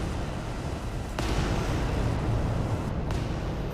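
Heavy weapon fire in Adeptus Titanicus Dominus, a Warhammer 40k game with giant war machines: a dense, rumbling barrage with two sharp bursts, one near the start and one near the end, over continuous low booming.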